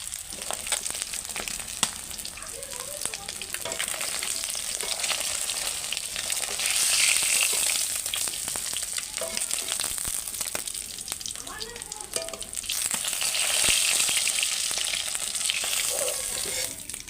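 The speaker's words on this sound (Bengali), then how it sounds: "মাছগুলো ভাজতে দিয়ে দিয়েছি" Snakehead fish fries in oil with a dense, steady sizzle and crackle that swells at times, recorded up close with occasional faint clinks.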